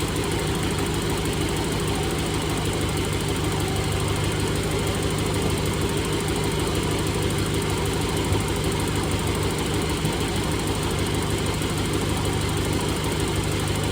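A Land Rover 90 engine runs steadily at idle, a loud, close, continuous rumbling drone with an even mechanical vibration and no change in pace or any voices.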